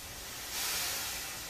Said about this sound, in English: Thomas let out a big whoosh of steam.